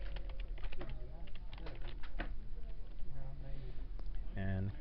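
Login details being typed on a computer keyboard in a quiet room, with a run of soft, irregular key taps close by and a few brief clicks, no talking.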